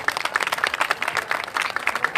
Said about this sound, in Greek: τον Δημήτρη τον Καλέργη στα Πλήκτρα, ένα χειροκρότημα.